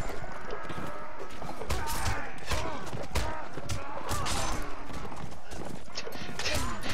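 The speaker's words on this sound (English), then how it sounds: "that guy just get run over by a fucking horse" Horses gallop and trample through a Mount & Blade Warband battle, with dense, continuous hoof thuds and clatter mixed with shouts and battle noise, loud throughout.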